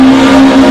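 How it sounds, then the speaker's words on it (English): Rally car on the hillclimb at the Goodwood Festival of Speed 2023, a loud, steady engine drone held at one pitch through a short burst. "We're going back into some of the rally cars now."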